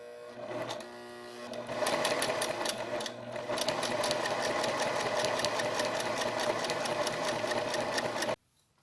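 Sewing machine stitching a patchwork placemat, a steady rapid mechanical needle clatter that starts after a brief pause, runs evenly for about seven seconds close to the microphone, then stops abruptly.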